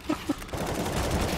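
Rapid automatic gunfire from a machine gun in the video game Counter-Strike: Global Offensive, a sustained continuous burst after two short shots, fairly loud and dense.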